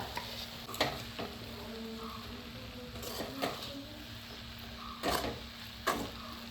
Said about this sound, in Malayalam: നന്നായിട്ട് ഇളക്കി കൊടുത്തിട്ട് ആദ്യം ഒന്ന് അടച്ചു വെക്കാം